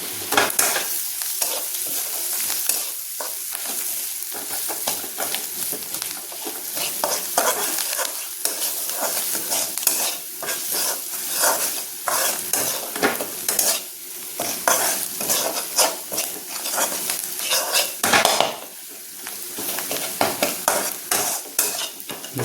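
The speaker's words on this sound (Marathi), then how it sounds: "चांगलं परतून घ्या." Bharangi leaf vegetable being stirred and sautéed in a pan, with a steady oily sizzle and repeated scraping and tapping of a spoon against the pan, continuous and close, with no talking.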